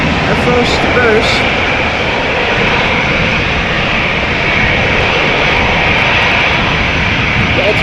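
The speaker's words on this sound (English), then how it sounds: "Engine sound of this airplane a bit overpowering. A321 Air France to Paris." Loud, steady roar of an Air France Airbus A321's jet engines at an airport, a dense continuous wash of noise with no breaks.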